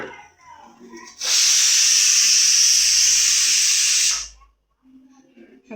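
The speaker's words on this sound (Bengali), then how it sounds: "একটা সিটি পড়লো, আর একটা সিটি পড়লেই নামিয়ে নেবো।" A pressure cooker boiling potatoes lets out one loud, sustained steam whistle lasting about three seconds, then cuts off sharply; quieter kitchen sounds come before and after it.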